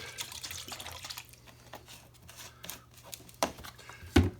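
Water pours and trickles into a container while CLR descaler is mixed for cleaning a Munchkin boiler, a soft uneven splashing with a few louder drips and clunks near the end.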